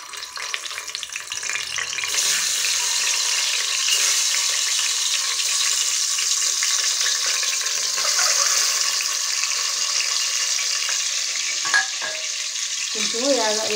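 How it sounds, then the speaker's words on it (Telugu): Eggs frying in hot oil with turmeric in an egg biryani preparation give a loud, steady close-up sizzle with occasional stirring clatter, no voices. "మరి పసుపు వేసిన తర్వాత అయితే ఇదిగోండి ఎగ్స్ అయితే వేస్తున్నాను ఇందులో"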